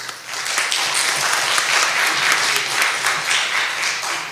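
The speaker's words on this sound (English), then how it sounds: "A round of applause for them, please." A crowd applauds steadily throughout at a free jazz showcase event, a dense wash of many hands clapping at moderate volume, easing off slightly near the end.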